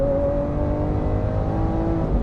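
The V12 engine of a Lamborghini Aventador runs at a steady high pitch, heard from close range as a continuous strong tone with no voices.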